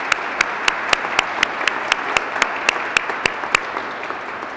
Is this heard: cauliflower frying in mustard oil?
no